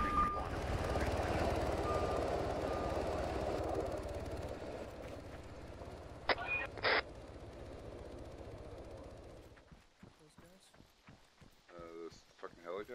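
A steady helicopter rotor drone from the video game ARMA fills the background, fading after several seconds, with a couple of sharp beeps and talking near the end.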